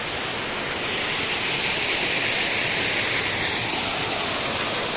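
Steady rushing water pours continuously, a broad hiss like a nearby stream or small waterfall, loud and unbroken with no voices.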